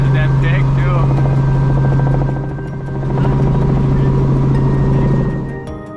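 A helicopter flies over open country during a wild hog hunt, its engine and rotor droning loud and close with a steady throb that dips briefly and swells again, the noise fading at the end.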